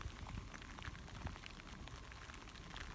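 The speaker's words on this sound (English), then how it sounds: "So it is pouring rain" Steady rain patters and hisses faintly on surfaces in West Texas, a soft continuous wash dotted with scattered drips, with no voices.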